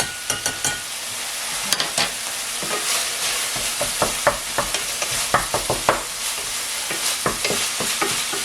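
Meat browns and sizzles in a Teflon pan for Yakky Joes, a steady close frying hiss broken by repeated scraping and stirring clicks from the utensil, with no voices.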